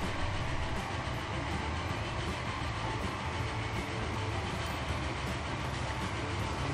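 A steam train in the rail-building game Transport Fever rumbles steadily through a tunnel, a dense, continuous roar that holds the same level throughout, with no talking.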